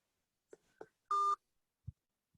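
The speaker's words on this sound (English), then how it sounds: "I think I just heard a beep." A short electronic tone sounds once amid faint clicks and soft taps on a quiet video call for a school education subcommittee meeting.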